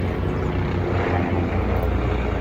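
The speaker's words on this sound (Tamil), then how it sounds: "தலைக்கு மேலால் வந்து அடிக்கடி இங்கே விமானங்கள் போய்கொண்டு ஹெலிகாப்டர்" An aircraft flying overhead near a UK train station on a London rail journey, a steady broadband engine roar that holds at a constant moderate level throughout with no talking.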